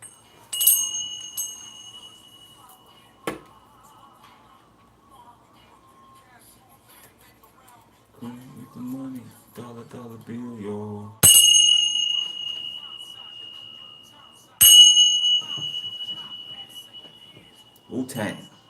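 Small hand bells struck a few times, each a bright ringing chime that fades slowly, spaced several seconds apart, with soft talking in between.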